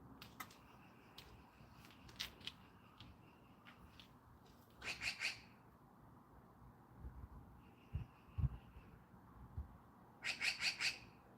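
Birds call outdoors near a pickup truck being worked on, with several short bright chirps and squawks in scattered bursts, including a couple of clustered trills, over low background noise and occasional knocks.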